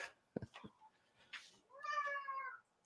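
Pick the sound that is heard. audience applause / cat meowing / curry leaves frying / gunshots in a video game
cat meowing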